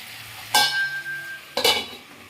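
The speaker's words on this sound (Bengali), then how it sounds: "এরপরে এটা একটু ভাজা ভাজা হতে দেবো" Potato and spring onion frying in a pan under a faint sizzle, with two distinct scraping stirs about a second apart, close up.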